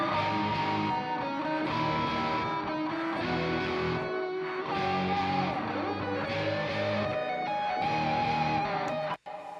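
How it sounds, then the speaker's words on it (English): Electric guitars play a sustained chord progression with reverb added, a spacious, reverberant wash, ending abruptly. "Now let's add the reverb."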